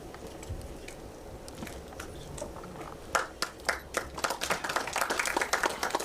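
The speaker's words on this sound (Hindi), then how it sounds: "आप सभी की जोरदार तालियों के साथ" Audience applause at a song launch event, starting as a faint patter of claps and swelling into dense, loud clapping over the last three seconds.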